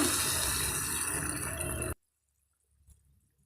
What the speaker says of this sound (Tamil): இப்போ நாம் தண்ணி சேர்த்துடலாம்